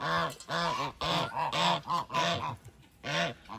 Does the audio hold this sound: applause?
no